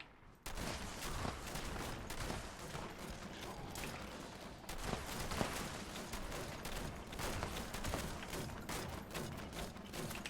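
Continuous heavy gunfire from a shotgun in Fallout 76 pounds away for about ten seconds, loud and dense, with overlapping blasts and thuds and no clear pauses.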